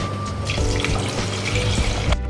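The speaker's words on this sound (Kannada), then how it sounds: "ಇತ್ತೆ ನೀರು ಪಾಡೋಡು" Water tipped into a cooking pan holding turmeric powder, sugar and ginger-garlic paste, a steady close splashing pour with sizzling texture that runs for about two seconds and then cuts off.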